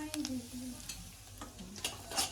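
Potatoes sizzle in hot oil during tempering while a spoon stirs and scrapes the pan in short intermittent strokes, the frying hiss quiet and close with a faint voice and a few light clicks.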